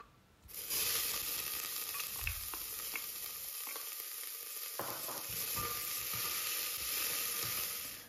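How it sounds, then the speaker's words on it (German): Diced onions fry in clarified butter in a soup pot, giving a steady, close sizzle that runs unbroken from start to finish, with occasional stirring scrapes and no voices. "darin werden erst einmal die Zwiebelwürfel glasig angebraten"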